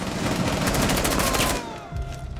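Heavy automatic gunfire and rapid shots in a Rainbow Six Siege team deathmatch on the Bank map, loud and dense for about a second and a half, then thinning to sparser, more distant shots.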